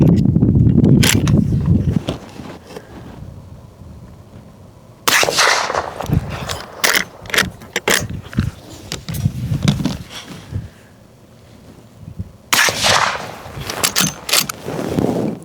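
Winchester 94 and Marlin 1894 lever-action rifles fire outdoors, several sharp cracks spread unevenly through the stretch, loudest at the start and again near the end, with some rustling and handling noise between shots.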